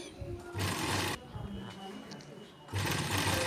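A sewing machine stitches a shirt collar in two short, loud, rapid bursts at the start and end, with someone talking in the pause between them.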